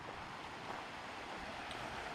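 Steady broadband rush of the Credit River flowing past rocks at a wet riverside campsite at night, continuous and fairly close with no talking.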